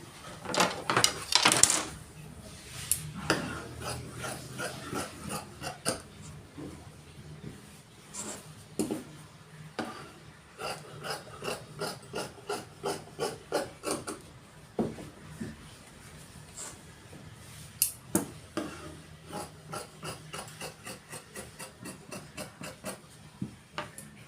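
Scissors cut through shirt fabric along a marked line, giving close, quiet, rhythmic snips in bursts, each run of crisp clicks followed by short pauses.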